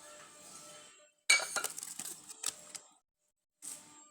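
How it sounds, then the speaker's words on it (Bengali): A clay plate from a tea set tapped and clinked several times, producing bright, ringing ceramic clinks in a close, quick cluster, then a pause and one more short clink, with no voices. "দেখেন মাটির প্লেট এরকম করে খাটি হয়।"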